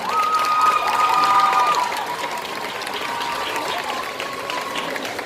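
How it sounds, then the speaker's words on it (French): Audience clapping and cheering for a cosplay contestant on stage at a Japanese culture convention, loud sustained applause that eases slightly after the first couple of seconds, with a few whoops and crowd voices mixed in. "Et on l'applaudit bien fort."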